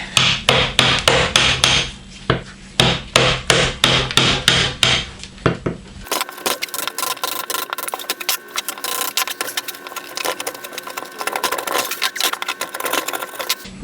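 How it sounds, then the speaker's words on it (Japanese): A hammer taps a chisel in quick sharp strikes, about a dozen ringing blows cutting wood into a curve, followed by softer scraping and shaving of the wood with no hammering. "のみであとは R に削っていきます"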